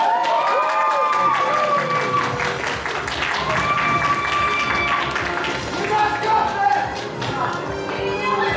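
Applause and cheering swell from a convention audience at an anime game show, a dense ongoing roar of clapping with voices calling out over it.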